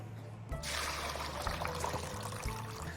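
Water pours out of a pot in a steady, close stream while making sikhye, a traditional Korean rice drink, starting abruptly and continuing evenly with a soft splashing rush.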